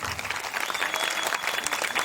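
A crowd at a Maha Shivaratri devotional gathering in Sivapuram claps for young children performers, a brief burst of close, dense applause lasting a couple of seconds.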